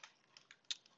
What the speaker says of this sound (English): I can keep typing until I get to interceptor